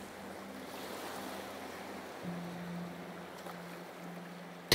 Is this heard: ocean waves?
yes